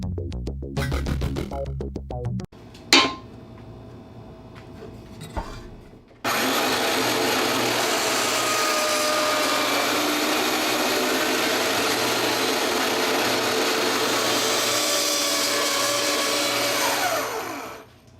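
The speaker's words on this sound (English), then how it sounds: "Never get a Black & Decker power bandsaw." A Black & Decker power bandsaw cutting while a two-blade fishing knife is refurbished, starting with clattering handling noises and then a loud continuous whining motor for about eleven seconds before winding down.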